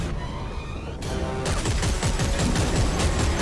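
Sustained rapid gunfire aimed at a drill boss in Dead Space 3, a loud rattling stream of shots that starts after a brief hum and continues densely to the end.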